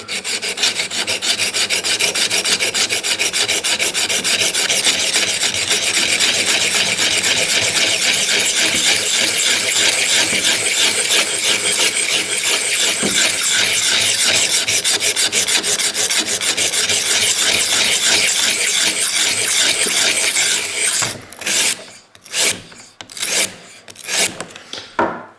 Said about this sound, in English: It's a very rough cut, very coarse stone here.